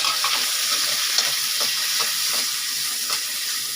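Small onions sautéing in a pan while egg burji gravy is made, a continuous hissing sizzle with occasional soft stirring taps, fairly close and steady throughout.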